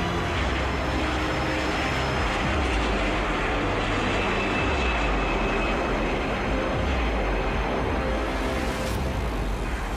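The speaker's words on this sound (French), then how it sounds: "le vol Air France 447 décolle à 22h29 avec 30 minutes de retard" An Air France 447 jet airliner taking off, a dense, loud and continuous engine roar with a steady rumbling low end that holds throughout, no voices over it.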